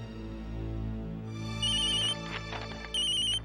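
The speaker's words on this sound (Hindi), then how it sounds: "तुम्हारा फोन बज रहा है" Mobile phone ringtone ringing, a steady melodic electronic tone with bright repeating high notes that swell louder in two bursts, heard alone without talk.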